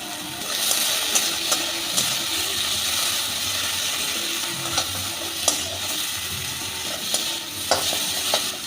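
Spice paste with turmeric and Kashmiri chili powder sizzling and frying in a pan for an okra and potato curry, a steady close hiss with occasional sharp pops and stirring scrapes.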